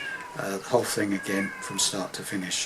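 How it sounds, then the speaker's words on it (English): A cat meows repeatedly in the background, several drawn-out cries in a row, while a person keeps talking over them. "Sorry about the cat in the background."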